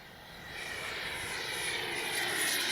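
A Freewing 80mm MiG-21 radio-controlled jet with a new power system flies at full speed into the wind. Its steady, rushing ducted-fan roar builds gradually louder.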